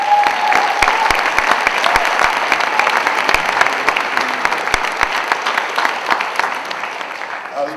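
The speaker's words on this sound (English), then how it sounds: "I was waiting for the applause" An audience at a film festival event claps in dense, sustained applause that fades slightly toward the end, with faint voices mixed into the crowd.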